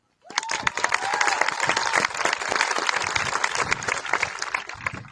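An audience at a 2025 high school graduation ceremony bursts into applause after a graduate is named, sustained clapping with a few cheers that swells in and keeps going strong to the end.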